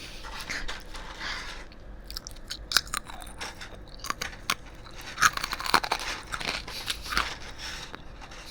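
Crunchy fried food from Arby's is chewed close up, a steady run of crisp bites and crackling crunches with an uneven rhythm and no talking.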